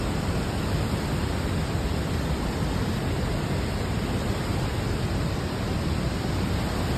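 The Río Blanco rushes over rocks at Xuchiles, Cuichapa, Veracruz, Mexico, a steady, dense roar of flowing water with no pauses and no voices.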